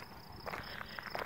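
Crickets chirp outdoors at night in Theodore Roosevelt National Park, a steady high thin trill running through the clip with faint rustling and soft scattered sounds beneath, fairly quiet and distant.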